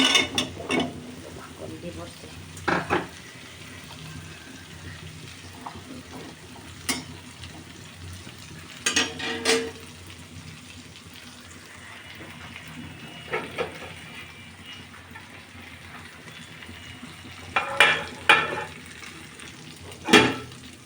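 A steady low sizzle of bottle gourd frying with spices runs throughout, broken by occasional scraping and clattering of a spoon stirring in a pan.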